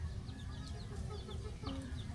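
Chickens cluck softly amid a noisy outdoor background, with scattered short calls and no talking.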